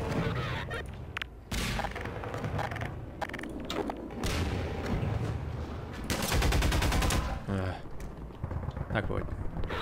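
Rapid bursts of Half-Life 2 gunfire with secondary fire, sharp cracks and rattling automatic volleys, loud and dense, with short pauses between barrages.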